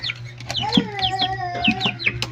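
Chicks eat eagerly and give out rapid, high chirping peeps and soft clucks in quick succession, close up and fairly loud.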